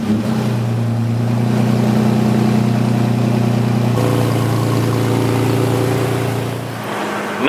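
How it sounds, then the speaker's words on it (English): A third-generation Toyota Tacoma pickup engine idles loud and close after a cold start with a steady low rumble, the tone shifting slightly partway through before settling lower near the end. "We're going to do a cold startup on my truck."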